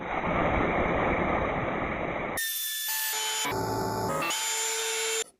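A hand wheel for a vise being ground out on the inside to fit a larger shaft, a loud continuous grinding rasp for a couple of seconds that gives way to a shifting tonal ringing.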